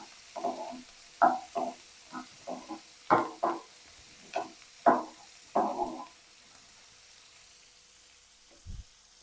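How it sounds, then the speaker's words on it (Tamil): Onions sautéing in a pan with dried red chillies, a string of short sizzling bursts as the food is stirred, irregular and fairly close, fading to quiet with a single soft knock near the end. "நல்ல வெங்காயம் வதங்கி வரட்டும்."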